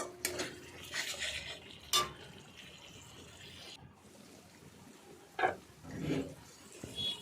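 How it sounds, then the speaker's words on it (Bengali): Masala for vegetarian aloo dum is stirred and fried in a pan: faint, sporadic spoon scrapes and clinks against the pan over a soft sizzle, quiet and close. "যতক্ষণ না মশলা থেকে তেল থাকছে ততক্ষণ ভালোভাবে কষিয়ে নেব মশলাটা"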